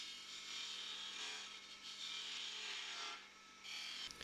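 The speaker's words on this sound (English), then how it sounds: "raise the handle until the toe starts to cut and arc into the wood" A skew chisel's toe arcs into spinning wood on a lathe while cutting V-grooves, giving a steady, close hissing scrape that eases briefly and swells again before stopping near the end.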